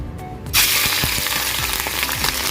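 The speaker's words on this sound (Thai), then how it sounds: "นี่เราก็จะนำเอาหมูลงไป คั่วก่อนนะคะ" Pork belly hitting a hot pan, where a sudden loud sizzle bursts in after a quiet start and then keeps frying steadily with faint scrapes and clicks of stirring, close up and with no talking.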